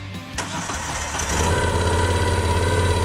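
A motorcycle engine cranks briefly and catches, then settles into a steady, loud, close idle with an even low throb, no voices present.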